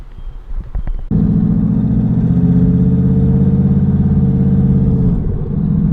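Ford Mustang GT (2018/2019) V8 engine on a test drive, a loud steady low rumble that rises after a brief start and holds, near and continuous, with no talk.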